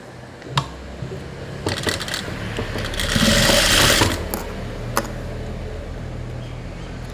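A sewing machine stitches the lining onto a modal-design blouse neck, whirring in a short burst that builds and then stops. Faint mechanical clicks and handling sounds come before and after it.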